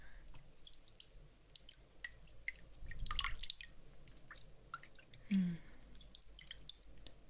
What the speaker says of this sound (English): Just a little bit of fresh mountain water